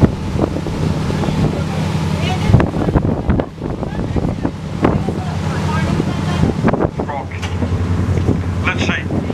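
Strong gusty wind buffets a tour boat on Milford Sound in New Zealand, loud blustery roaring and microphone rumble rising and falling under engine and water noise, with people talking and exclaiming throughout.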